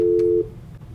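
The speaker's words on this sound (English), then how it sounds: "when somebody calls my phone while I'm recording, it potentially messes things up" An incoming phone call tone cuts into a live game recording, a loud steady electronic beep lasting under half a second before dropping away to quiet room noise.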